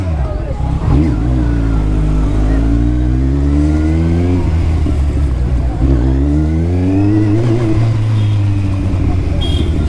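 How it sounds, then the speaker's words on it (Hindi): Superbike engine revving in heavy road traffic, a loud steady drone with rising and falling pitch sweeps, near and continuous throughout, with people talking over it. "बट इतनी लाउड तो आवाज़ नहीं है मेरे बाइक के।"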